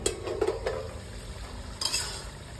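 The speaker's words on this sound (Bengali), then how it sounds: "বন্ধুরা ঢাকাটা খুলে দেখি" A metal lid clinks against a cooking pot as it is lifted off, with a couple of sharp close clinks and a later rattle, while shaluk stalk greens with fish head cook in a rustic village kitchen.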